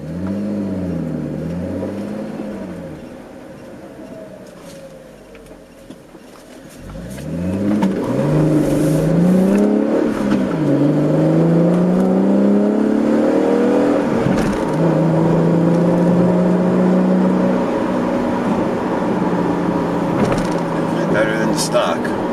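Heard from inside the cabin, a V6 Camaro with a GM Performance exhaust idles with a low rumble, then revs and accelerates into a loud, sustained engine drone with rising and falling pitch.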